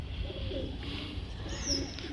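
Pigeons coo softly in low, rolling calls, faint and steady against a quiet background.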